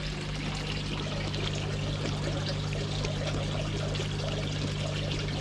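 Water pouring from a pond pump outlet into a koi pond, a steady, loud, continuous splashing gush with a constant low pump hum beneath, no talk.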